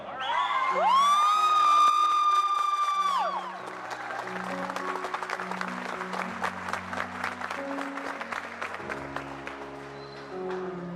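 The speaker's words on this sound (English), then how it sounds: "let's hear it for Cadet Moser on the piano" At a teen boot camp ceremony, a room of cadets and family applauds and cheers a cadet's piano performance. A long, loud whoop opens the sound, then steady clapping follows with scattered shouts over low sustained tones.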